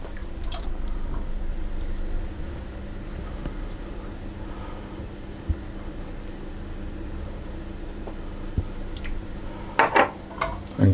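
Lemon pie filling with butter is stirred in a pot as it begins to boil, giving a faint, steady thick squelching and soft scraping, with a few light clinks near the end.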